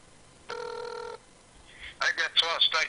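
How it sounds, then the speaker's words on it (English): A telephone dialing over speakerphone: a steady multi-tone ring or dial tone for about a second, then a burst of rapid electronic chirps and warbling tones, loud and close. "Let me try getting him on the phone here."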